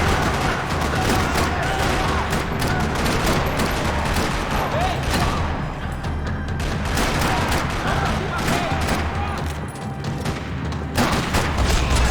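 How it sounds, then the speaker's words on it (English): Gunfire rattles through a parking lot in the Max Payne 3 video game, a dense, loud, continuous barrage of shots and booms with no gaps across the whole stretch. "Another parking lot rattling with gunfire."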